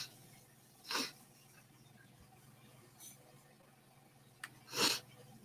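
Two short sharp sneezes from someone who breathed in black pepper, spaced a few seconds apart in a quiet room, with a faint sniff between them.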